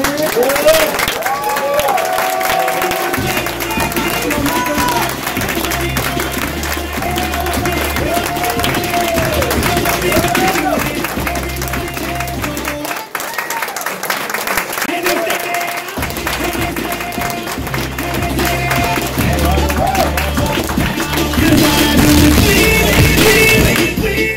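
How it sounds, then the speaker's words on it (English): A training-session audience applauds a colleague who passed a test on a second try, steady clapping and crowd noise filling the whole stretch, with voices and a tonal melodic layer running underneath. "Please give her a round of applause."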